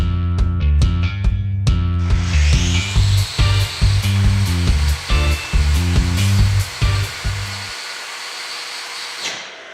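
Angle grinder spinning up in repeated loud bursts of whining motor, then a sustained high grinding roar as it catches and winds up loose baggy clothing, stopping abruptly near the end.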